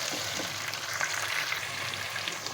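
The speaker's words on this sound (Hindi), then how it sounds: "इसका कलर चेंज होने तक इसको भून लेंगे अच्छे से" Chicken for a wedding-style stew browning in a pan, giving a steady, close, moderately loud sizzle with faint stirring and no voices.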